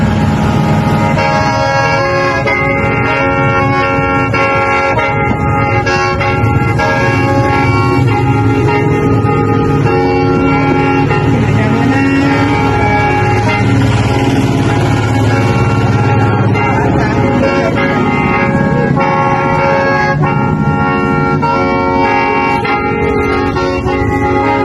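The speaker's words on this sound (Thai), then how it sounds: "เดี๋ยวนี้เราจะมาฟังเสียงแคนจากอาจารย์ดนตรีพื้นเมืองของฝั่งไทยเฮา" A Thai/Lao khaen, a free-reed mouth organ, plays a folk piece with loud, continuous, reedy chords and drones that run unbroken throughout.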